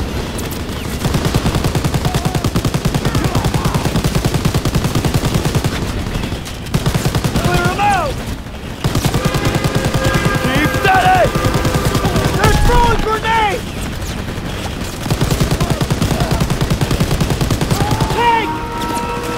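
Sustained automatic gunfire and bursts from a World War II shooter game (Call of Duty: WWII), loud and dense throughout with occasional booms, while players shout over the battle.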